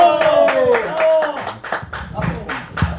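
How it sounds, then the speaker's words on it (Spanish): Audience clapping greets a performer at a Mexican variety show, with brief scattered claps mixed in among music and voices. "el señor Carlos Donald, por favor, el aplauso para él."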